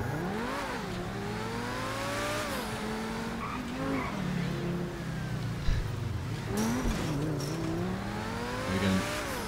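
Cars drive in GTA 5 during a small car meet, with engines revving and shifting through rising and falling gear pitches, occasional tire squeals and a loud continuous motor drone close up.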